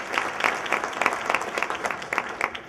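An audience gives speaker Keith another round of applause, with dense, even clapping from a crowd throughout.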